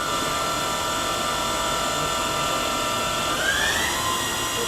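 Spindle of a Dahlih CNC vertical machining center running in high gear range, a steady loud mechanical whine with sustained tonal hum, pitch rising near the end as speed increases.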